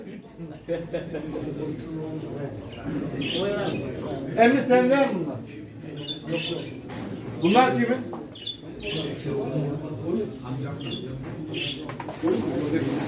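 Pigeons coo repeatedly at a pigeon auction in Çorum, their soft rolling calls recurring in short bursts beneath busy bidding chatter nearby.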